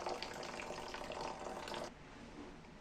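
Fresh paneer rinsed under a running tap, with a steady broadband rush of water that drops to a quieter, softer flow partway through.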